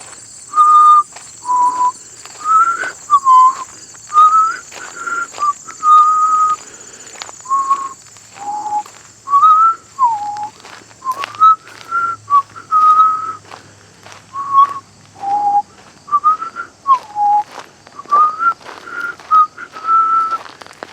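A person whistles a recognizable childhood melody, the notes clear and close, coming in short repeated phrases with brief gaps between them and no talking.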